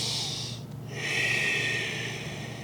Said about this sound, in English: Breathing into the pose.